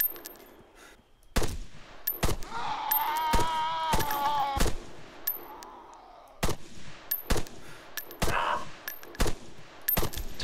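Gunfire in the Arma 3 zombie sandbox game, sharp loud shots spaced irregularly across the span with a few close bursts, some ringing tonal sounds between, and no talking.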